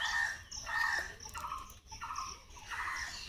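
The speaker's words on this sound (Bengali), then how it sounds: "উঠে দেখো চারিপাশে তো পাখি ডাকছে," Morning birds call around a rural village home in Bengal after light dawn rain under heavy cloud, several overlapping chirps and clucking, fowl-like calls repeating irregularly at moderate distance with quiet background and no talking.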